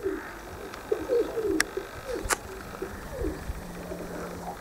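Soft, thin squeaks from young pigeons and low cooing nearby, scattered over a quiet outdoor background with a few sharp clicks.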